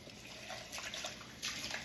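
Tap water running into a cooking pot to fill it for boiling rice, a soft steady hiss and splash at low level, briefly swelling louder near the end, with no voices.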